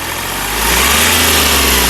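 A 2017 Hyundai Xcent Magna three-cylinder diesel engine runs steadily at close range, a loud even drone with a low rumble that swells slightly partway through, no voices present.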